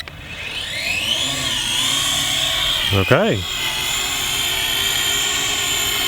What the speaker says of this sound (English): All right, big Syma drone. You're a little loud, but you're flying okay.